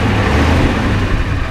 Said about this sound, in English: Rev it up one more time.